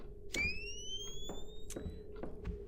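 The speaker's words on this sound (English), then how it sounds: "That camera flash sound is" Camera flash in the horror video game Heartworm, a rising electronic whine that climbs in pitch over a quiet steady hum with faint clicks, low in volume.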